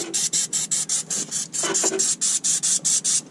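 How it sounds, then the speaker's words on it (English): An aerosol can of penetrating oil sprays in a rapid series of short hissing bursts, about a dozen evenly spaced puffs, close and fairly loud. "Give them both a quick spray."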